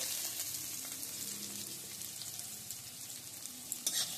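Thinly sliced onion fries with dry red chilli and whole cumin in a pan, giving a soft steady sizzle heard fairly faint and close, with a couple of light utensil knocks near the end and no talking.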